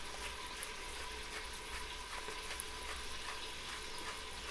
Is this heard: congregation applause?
no